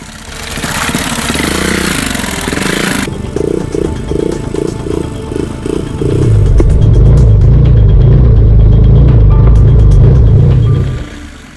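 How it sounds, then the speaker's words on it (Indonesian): A motorcycle engine idles and putters, then revs up loudly with a churning, pulsing roar as it crosses a river in the rain, close by, before cutting off. "motor andalan ini kembali ditantang menaklukkan sungai"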